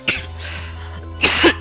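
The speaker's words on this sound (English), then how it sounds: "Sorry about my cough" A person's cough, a couple of sharp bursts with some throat clearing, close and fairly loud over a steady low background hum, made during commentary on an online Pokemon X and Y battle.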